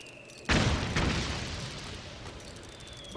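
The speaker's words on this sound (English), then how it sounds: "Oh, and here's a mortar cannon." A mortar cannon in Metal Gear Solid 4 sends off a sudden loud blast, followed by a second thump and a long rumbling decay.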